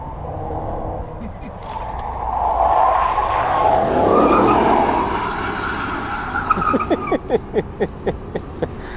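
A Dodge RAM or BMW M5 lapping a track, tires squealing and skidding loudly through a long slide, engine note rising and falling, then sharp rhythmic engine pulses near the end, with talk over it.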